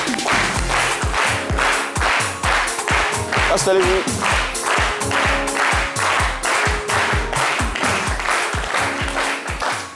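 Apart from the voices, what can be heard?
studio audience applause welcoming a guest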